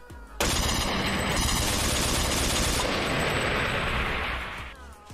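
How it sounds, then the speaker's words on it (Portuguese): Sustained automatic gunfire from a GTA MTA roleplay game, a dense continuous burst of rapid shots lasting several seconds after a brief quiet start, loud and close with no voices. "Atira, atira, atira pra matar"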